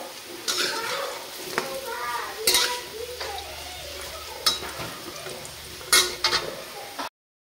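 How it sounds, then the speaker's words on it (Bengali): Lentil fritters (bora) frying in oil, a continuous crackling sizzle with clinks of a utensil against the pan cutting in several times before the sound stops abruptly. "তো বড়াগুলো আমার সুন্দর করে ভাজা হয়ে গেছে"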